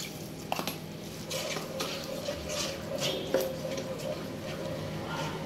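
Masala spice paste going into a pan and being stirred, with faint metallic scrapes and clinks of a utensil over a steady low kitchen hiss.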